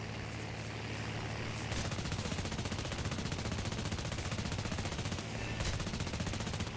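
A lower gunner's machine gun rattles in rapid continuous bursts in War Thunder, steady and loud over the constant drone of the aircraft.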